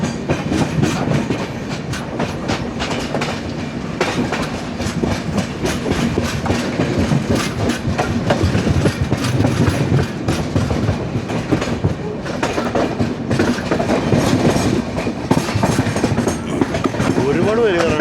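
A passenger train runs along the rails toward Kudal station on a long Shoranur to Bikaner journey, giving a steady loud rumble with rhythmic clickety-clack of the wheels throughout, and voices come through at times.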